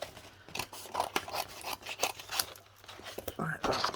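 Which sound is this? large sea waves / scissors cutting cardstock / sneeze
scissors cutting cardstock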